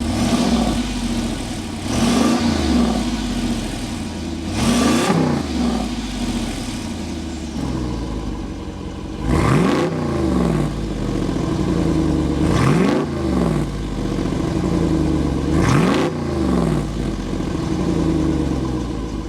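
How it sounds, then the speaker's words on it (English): A deep 6.4-liter V8 engine of a 2025 Jeep Wrangler Rubicon 392 revs repeatedly, with roughly six throttle blips rising and falling over a steady rumbling idle, loud and close, no talking. "start it up, so you can hear that exhaust note"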